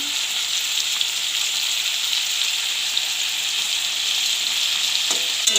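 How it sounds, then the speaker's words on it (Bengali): Kalmi greens (water spinach) fry in a pan with a loud, constant sizzle throughout and a faint clink near the end. "একটু ভুজে দেবো এবার, তাহলে কালারটা ভালো"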